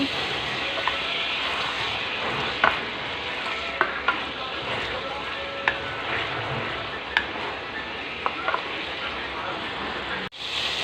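Coconut milk for a Thai massaman beef curry simmers and sizzles steadily in a pan, with repeated light scrapes and clicks as it is stirred close up.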